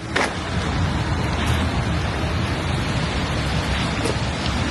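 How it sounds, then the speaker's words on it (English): Steady, loud rainfall pours down outdoors as a constant broadband wash with occasional heavier spatters and no talking. "The rain is literally beating on the door right now."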